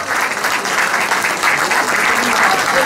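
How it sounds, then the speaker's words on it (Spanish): Crowd applause rings out at the 2019 San Isidro patron saint festival, a dense, loud and steady burst of clapping that lasts throughout. "le regalamos fuerte el aplauso"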